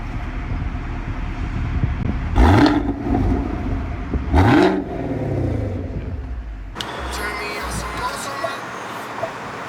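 A car engine is revved hard twice as the gas is pressed, each loud rising roar falling back to idle, then a steady whirring hum follows.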